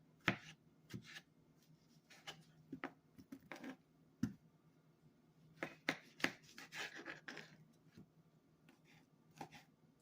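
Knife chopping mushrooms into smaller slices on a cutting board, a quiet, irregular series of close, sharp taps and thuds in small bursts, without speech.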